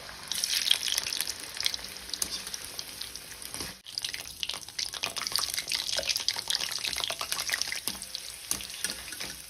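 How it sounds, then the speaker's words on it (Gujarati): Vegetables for Surti undhiyu deep-fry in hot oil, a continuous close bubbling sizzle with a brief dip partway before it resumes. "આવી જ રીતના આપણે બધા શાકભાજી તળી લઈશું।"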